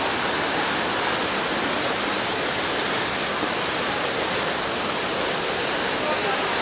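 A clean, spring-fed waterfall at Cascada de Quetzalapan gives off a steady, loud rush of falling water. The roar is continuous and broadband, with no pauses or voices over it.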